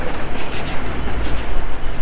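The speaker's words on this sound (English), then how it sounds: "I'm just gonna let this train go by." A train passes close by with a loud, steady rumble and clatter that fills the whole stretch, and no voices are heard.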